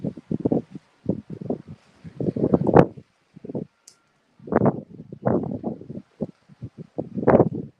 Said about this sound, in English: It's starting to get windy as we get more and more out to the open waters